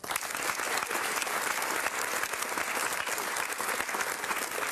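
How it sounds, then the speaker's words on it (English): A studio audience on a Saturday night talk show bursts into applause, a dense, loud, sustained wash of clapping from many hands that carries on steadily without pause. "Give a big round of applause for Vimes the dog."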